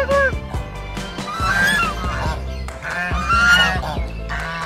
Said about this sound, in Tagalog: Ito pa ang mga pato-pato na